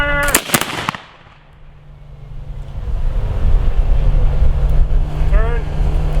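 A ceremonial rifle volley fired at a Flag Day presentation: a loud, sharp near burst of gunshots at the start, then fading rumble and outdoor crowd ambience.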